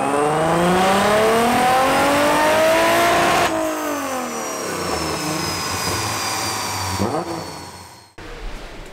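A tuned car running on ethanol fuel roars on a dyno as a pull climbs in pitch, drops briefly and rises again. The loud engine note cuts off abruptly near the end.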